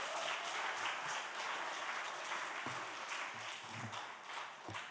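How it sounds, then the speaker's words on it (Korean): A church congregation at a Friday prayer meeting claps steadily together, a continuous wash of applause heard from some distance. "우리 하나님께 영광의 박수를 올려드리도록 하겠습니다."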